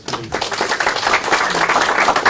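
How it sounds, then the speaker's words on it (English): Applause from the audience at a 2016 information session about the Flagler Bridge closing, a crowd of hands clapping that swells quickly from a soft start and stays full and steady to the end. "Do we join me in a round of applause,"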